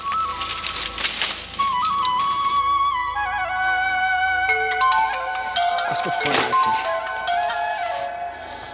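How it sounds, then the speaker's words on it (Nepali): A mobile phone ringtone for an incoming call plays a bright, melodic electronic tune continuously for about nine seconds. It is loud and close, over some faint background noise. "शिव भिनाजुको फोन आएछ"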